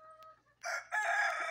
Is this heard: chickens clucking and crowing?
yes